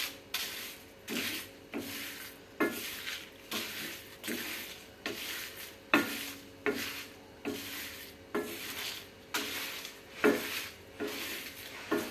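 Red chillies and spices roasting on a low flame in a pan for drumstick leaf powder, stirred with a rhythmic scraping rub repeating about once a second, close and steady, with no talk.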